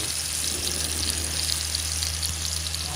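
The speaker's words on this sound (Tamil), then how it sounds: "salmon fish fry" Wild Atlantic salmon frying in a pan, a steady, even hiss and crackle of hot oil holding at a constant level throughout, close and fairly loud with no voices.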